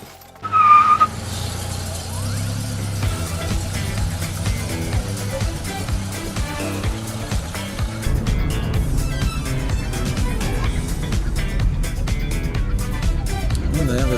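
1973 Ford Mustang on a test drive after a brake repair, a steady car engine and road rumble that grows louder and rougher partway through, with a brief sharp squeal at the start.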